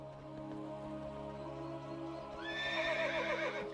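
A horse neighs in World of Warcraft, rising from about the midpoint as a bright, warbling whinny over steady background game music and ambience, fairly faint overall.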